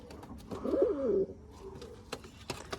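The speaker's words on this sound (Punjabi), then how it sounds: "ਕਰ ਲਓ ਸ਼ੌਂਕ ਵੀਰੇ ਬਾਬਾ ਜੀ ਗੁਰਦੇਵ ਜੀ ਵਾਲਿਆਂ ਦੇ ਕਬੂਤਰਾਂ ਜਮਾ ਪਿਓਰ ਹੈ" Baba Gurdev breed pigeons, from a large pair, give one clear, close coo rolling for about half a second amid faint scratchy background noise.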